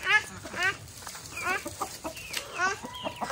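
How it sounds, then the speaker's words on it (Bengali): Chickens cluck and call in short, irregular bursts close by, with some soft background noise and a voice now and then. "এই যে দেখো চলে আসছে মুরগি"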